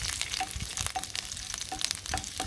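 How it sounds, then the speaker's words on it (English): Finely chopped garlic sizzles and fries in hot ghee in a pan for a curry, a steady close crackle broken by the light scrape of stirring, with no voices. "we're gonna add 4 cloves of garlic, finely chopped. Just to saute."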